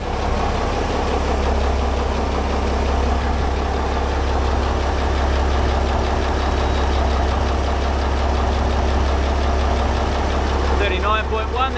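A boat's engine runs steadily while its alternator is being tested, a loud, constant low idling drone close by throughout, with voices faintly in the background.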